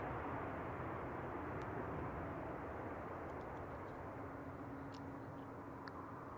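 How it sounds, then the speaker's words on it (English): An Alaska Airlines Boeing 737-800 in Disney Toontown livery at San Francisco Airport makes a continuous broadband jet roar with a faint steady whine, slowly easing off over several seconds. "Alaska Airlines Disney Toontown livery. It's a Boeing 737-800."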